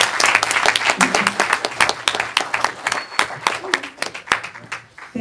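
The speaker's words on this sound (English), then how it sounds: "Let's have a round of applause for our moderator, Commissioner Hall." An audience at a town hall meeting applauding the moderator, a dense burst of clapping from many hands that fills the room, with some voices heard under it.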